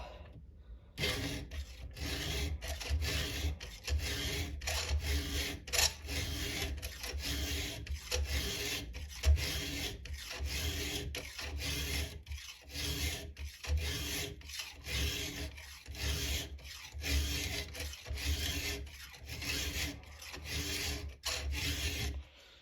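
A chainsaw chain held tight on its bar is filed with a Stihl 2-in-1 sharpener, steady rasping strokes repeating in an even rhythm for over twenty seconds, close and without talk.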